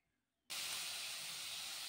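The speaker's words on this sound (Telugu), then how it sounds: "బాగా ఫ్రై చేయాలి." Grated beetroot hits hot tempering oil in a frying pan: after a moment of near silence, a sudden loud, steady sizzle bursts in and holds.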